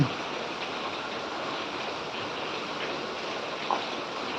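Heavy rain falls steadily alongside rushing floodwater after days of downpour, a dense, even hiss and roar that stays constant throughout, with one small knock near the end.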